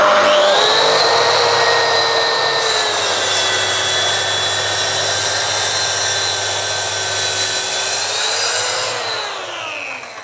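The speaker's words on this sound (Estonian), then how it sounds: "Ja nüüd hakkame saagima." A Mafell MT55 plunge saw cutting through a plank, its motor whining steadily and loud at close range for about nine seconds before winding down, with no voices.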